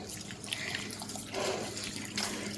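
Water is emptied out of a garden watering can rose, a faint, close splashing trickle with a couple of stronger gushes partway through.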